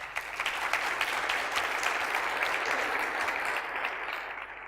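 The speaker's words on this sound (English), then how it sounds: "a round of applause" An audience at a music-industry tech conference applauds a panel, a steady wash of many hands clapping at moderate volume throughout.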